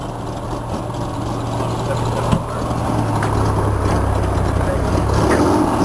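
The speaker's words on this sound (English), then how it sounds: "Oh, listen to this Corsa rumble." A 1966 Chevrolet Corvair Corsa idles close by with a deep, steady rumble that swells slightly louder, while people talk over it.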